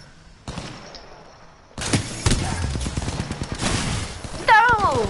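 A thick-sounding gun in a video game fires a rapid burst of shots after a short lull, a dense rattling volley with a voice heard partway through.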